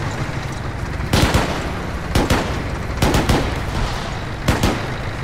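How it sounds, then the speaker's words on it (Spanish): Several heavy booming tank cannon shots in the video game Arma 3 go off in uneven bursts, some doubled, over a constant low rumble of battle noise. "Cañonazo a la derecha."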